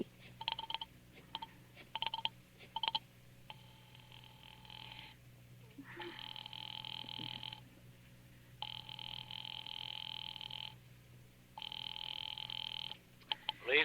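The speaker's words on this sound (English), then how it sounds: "Ringing the police department." A telephone rings at a police department in a radio drama, several repeated ring bursts coming after brief dialing clicks, clear and moderately loud against a quiet background.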